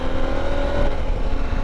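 A KTM 890 Adventure R motorcycle engine drones steadily up close, its power faltering while accelerating, with a rough low rumble and a clattering mechanical edge throughout.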